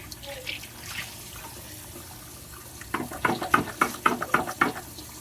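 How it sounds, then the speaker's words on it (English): Hot water runs from a bathroom tap onto a soapy washcloth, a soft steady trickle that turns into louder, uneven splashing and wringing bursts in the second half. "I'm getting some hot soapy water on a washcloth so that I can clean up my face"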